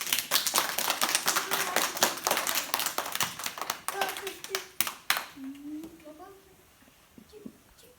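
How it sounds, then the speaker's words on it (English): A group of first-grade children clapping after a book reading, a dense patter of hand claps for about five seconds that then thins out, with young voices chattering over it. "You can clap if you want."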